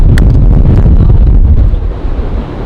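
Strong storm wind batters a microphone outdoors at a UK home, a loud continuous roaring buffet with gusty surges that ease slightly toward the end.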